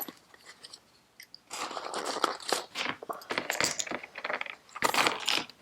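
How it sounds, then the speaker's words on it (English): Plastic being cut off the top of a Harley-Davidson Shovelhead part, heard as close, irregular crunching and snipping bursts after a quiet start, with no talking. "Let me just cut the top off that more"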